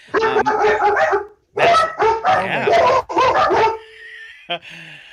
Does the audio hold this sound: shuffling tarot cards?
no